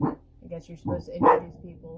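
A pug barking indoors in the morning, a few short barks and yips mixed in with a person talking close by.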